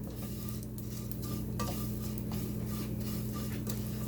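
Sevaiyan vermicelli fry in a pan for sheer khurma, a soft steady sizzle with light stirring clinks and scrapes over a low background hum.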